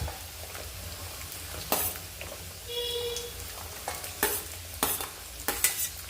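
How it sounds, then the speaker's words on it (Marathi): Beans and other vegetables fry in a pan for a Veg Kolhapuri curry, a steady low sizzle broken by several sharp scraping stirs, close and fairly quiet with no talking. "दोन दोन भाज्या मी फ्राय करून घेते जेणेकरून सोपं जावं"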